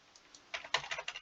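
Computer keys clatter in a short, quick burst of typing close to the mic during a Scratch programming session, with no one talking.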